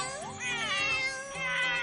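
Two cartoon cats in a Hindi-dubbed Doraemon episode let out a pair of loud, close, drawn-out meows, one after the other.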